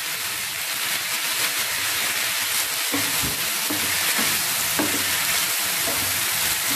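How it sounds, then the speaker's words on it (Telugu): Gongura leaves frying in a pan for a red chilli pickle, a loud, continuous hissing sizzle with occasional soft stirring scrapes, no speech present. "గోంగూరని బాగా వేయించుకోవాలి."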